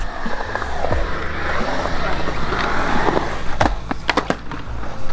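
Skateboard wheels roll loud and close through a turn in a deep concrete bowl at a Czech skatepark in České Budějovice, a continuous gritty rumble ending in a few sharp clacks and scrapes of the board.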